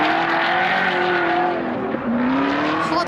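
A BMW E36 drift car on a qualifying run at the Nürburgring, its engine howling loud and close with sustained revs, shifting pitch and tire squeal as it slides through the course.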